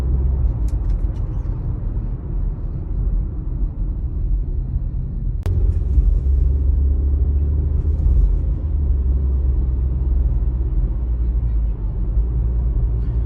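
A Renault Samsung New SM5 sedan on the move sets up a steady, loud low engine and road rumble throughout, with a single sharp click partway through; no voices are heard.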